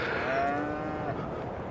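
Cattle on a farm in Farming Simulator 22 let out a drawn-out moo, steady and moderately loud over a constant game ambience, with no talking.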